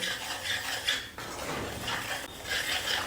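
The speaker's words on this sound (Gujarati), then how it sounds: "હવે આ લોટને આપણે સરસ રીતે શેકી લેવાનો છે" Wheat flour roasts in ghee in a pan for Gujarati sheera, with steady scraping and stirring of a spatula against the pan, close and continuous.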